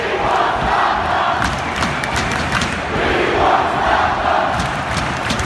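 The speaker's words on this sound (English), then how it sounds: "The crowd chants, "We want Zlatan, we want Zlatan."" Large stadium crowd at a football match chanting for Zlatan, a dense, loud roar of many voices rising and falling in repeated waves.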